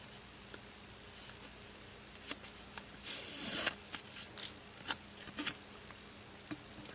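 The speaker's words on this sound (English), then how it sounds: "So I need to pull this away from the backing." Cricut transfer tape is pulled away from its backing, close and quiet, with scattered crisp crackles and ticks and a longer rasping peel in the middle, in a calm room with no talking.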